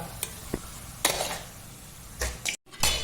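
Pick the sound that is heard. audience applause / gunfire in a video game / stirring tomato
stirring tomato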